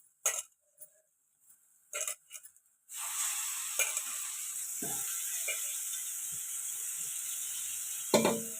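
Washed dry fish tipped into hot frying masala in a pan: a few sharp knocks and clatters, then a sudden loud sizzle that keeps hissing steadily, with scraping stirs through it.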